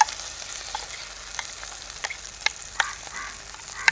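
Masala sizzles softly in melted ghee for a Kerala prawn ghee roast on low heat, with faint, scattered scraping clicks from stirring over a steady background fry.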